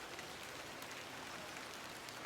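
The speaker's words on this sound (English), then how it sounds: "I'm glad the rain doesn't put you off." Steady rain falls in The Excavation of Hob's Barrow video game, a soft, even hiss that continues without a break and stays faint throughout.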